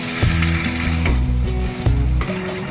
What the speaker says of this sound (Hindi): पनीर को हम हल्के हाथों से सब मिक्स कर लेंगे